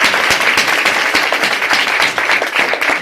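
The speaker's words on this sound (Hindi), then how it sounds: "खुदा के कलाम के लिए और फिर संगीत के लिए जोरदार तालियां" A church congregation applauds loudly and steadily after a sermon reading and music, dense clapping filling the room throughout with no gaps.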